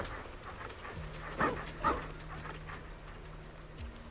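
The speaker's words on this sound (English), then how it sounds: "She can bark." A dog in the video game Zenless Zone Zero gives two short, sharp barks over a quiet backdrop of game music.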